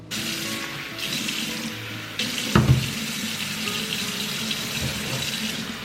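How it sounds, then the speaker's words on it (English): Water from a tap runs steadily as it is poured over a roast with onion and vegetables before going into the oven, a close continuous splashing stream with a brief louder gush midway. "Let's add a little bit of water, and then we're gonna put it into the oven."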